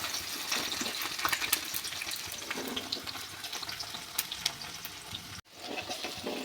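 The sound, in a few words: onion frying in hot oil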